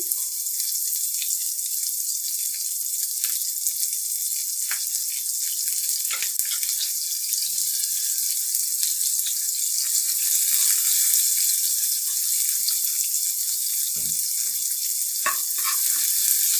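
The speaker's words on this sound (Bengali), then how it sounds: "দিয়ে আমি এখন লাল লাল করে ভেজে নিব পেঁয়াজটাকে।" Onions and green chillies fry in a generous amount of oil with a constant bright sizzle, close and fairly loud, and occasional spatula knocks and scrapes toward the end.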